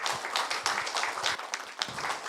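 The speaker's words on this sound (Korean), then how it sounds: "감사의 큰 박수 부탁드리겠습니다." Applause from an audience at a Korean forum event, a faint, dense patter of many hands clapping at a distance for about two seconds.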